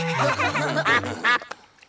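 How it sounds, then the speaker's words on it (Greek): A cartoon duck quacks in a short burst of close, nasal quacks, loud and clear with a brief pause before the last one. "η κυρία Πάπια λέει ευχαριστώ"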